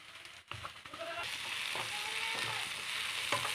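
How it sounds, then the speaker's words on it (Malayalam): Vegetable puff filling of softened vegetables, herbs and ground black pepper fries in a pan with a continuous sizzle, punctuated by a few scraping stirs of a spoon, with no speech. "കുരുമുളക് തന്നെ ഇളക്കണം"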